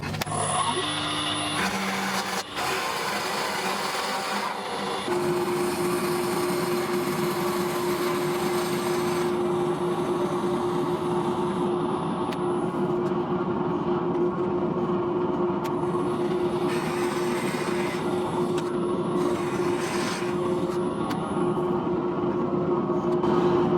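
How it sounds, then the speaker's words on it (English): A steady, loud machine whir runs throughout as a drill bit in a lathe chuck bores into salvaged piano wood, with a sustained hum settling in after a few seconds as the spinning cut continues. No voices. "I'm going to use a drill bit in a drill chuck on the lathe to start the cutting"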